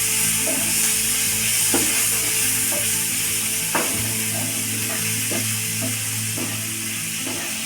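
Chopped onion and garlic frying in a pan for chicken butter masala, a steady loud sizzle with occasional scrapes and knocks of a spoon stirring through it.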